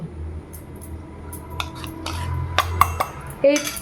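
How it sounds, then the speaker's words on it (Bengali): Chilli and a mixed paste of poppy seed and mustard are tipped into a mixing bowl for a katla fish dish, with soft scraping and several light metallic clinks and taps of utensils against the bowl. "এবার সমস্ত কিছু মিক্সিং বোলে পড়ে যাচ্ছে।"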